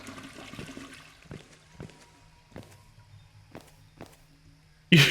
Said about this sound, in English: Yeah, I can flush all these toilets. Although it just does a sound.